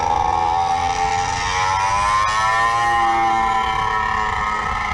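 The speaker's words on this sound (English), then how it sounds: "A lot of people over here riding motorcycles" A loud motorcycle on Route 66 in downtown Springfield, Missouri: a steady, close engine drone with a rising and falling pitch as it passes, with no talk.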